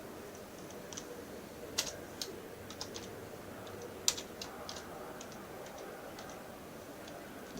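Typing on a keyboard while wearing gloves, with soft, irregular clicks and a few sharper taps over faint background noise, quiet and close.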